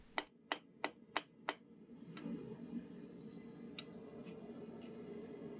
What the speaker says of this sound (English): I mark my plunge line areas by hammering in a notch at a 45 degree angle using the edge of my anvil